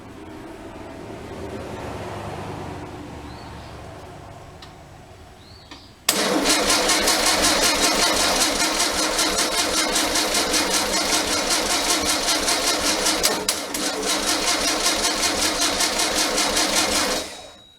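A 36hp Okrasa engine cranked by its starter to build fuel pressure without firing: after a quiet stretch, a loud, fast, even whirring churn begins abruptly and runs steadily for about eleven seconds before cutting off.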